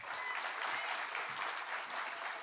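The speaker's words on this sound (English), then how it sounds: "Another round of applause for Desiree Cook." Sustained applause from an audience at a community event honouring a guest, a dense, steady clatter of many hands clapping throughout with no pause.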